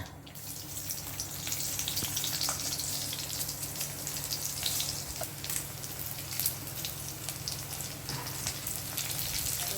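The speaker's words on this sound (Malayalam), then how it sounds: "ഇച്ചിരി ചെറിയ ഉള്ളി അരിഞ്ഞിട്ട് വേണം കടുക് വറുക്കാൻ." Mustard seeds frying with chopped shallots in oil for a prawn theeyal make a steady, close sizzle with scattered small pops and crackles throughout, with no talking.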